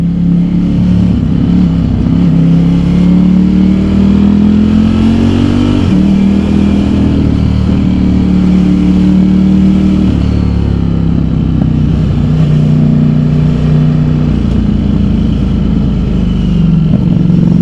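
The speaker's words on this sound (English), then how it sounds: "I think I would definitely purchase this exhaust." A Ducati Streetfighter V4S sport motorcycle with an aftermarket exhaust revs and settles repeatedly, a loud, deep exhaust rumble rising and falling in pitch over a steady idle, close by and continuous.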